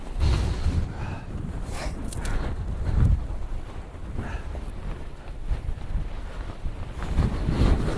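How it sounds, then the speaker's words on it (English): Strong gusty wind buffets the microphone on a fell summit in the northern Central Fells, a continuous low rumble that swells and eases in waves, with no speech heard. "Oh, the wind!"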